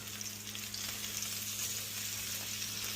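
Butter sizzles and spatters steadily in a hot pan while a steak cooks, a close, continuous crackling fry with no talking.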